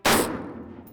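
A single loud, close rifle shot taken at a buck cracks sharply, then decays into a rolling echo that fades over a second.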